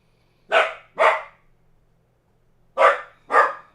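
A dog barks twice in quick succession, pauses in silence, then barks twice more; loud, close, and sharp.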